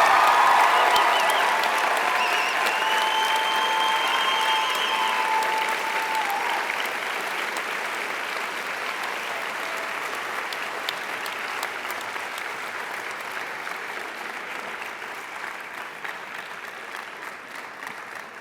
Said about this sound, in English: One more round of applause, please, for the FAC class of 2024.